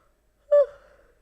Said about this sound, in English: Sorry for the yawn.